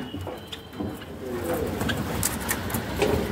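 Java sparrows in a cage give soft, scattered calls and chirps against a low background rumble, fairly close and moderately loud.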